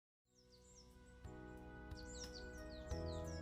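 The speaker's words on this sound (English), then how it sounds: "The soft chirping of birds." Birds chirp softly in a visual novel video game, quick high sweeping chirps repeating over a low ambient drone that swells in as the clip begins.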